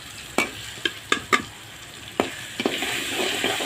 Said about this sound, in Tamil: இப்போ நம்ம பெருங்காயத்தூள் போடலாம் கொஞ்சோண்டு